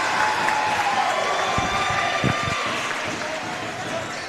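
Spectators at a high school basketball game between Evansville Christian and Owensboro Senior erupt in cheering and applause after a charge call. The crowd noise is broad and roomy, with a few sneaker squeaks and a commentator speaking over it.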